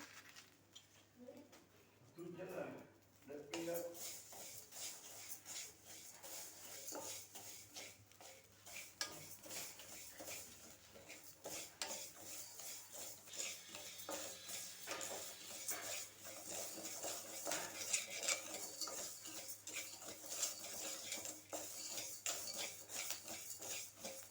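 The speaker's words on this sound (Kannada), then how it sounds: "ಈ ಉಪ್ಪನ್ನು ನಾವು ಹುರ್ಕೊಂಡು ಹಾಕೋಬೇಕು" Salt being roasted in a pan for sambar powder, with a continuous soft scraping and rattling of grains stirred against the metal, close and fairly quiet throughout.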